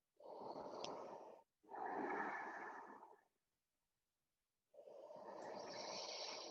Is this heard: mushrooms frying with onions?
no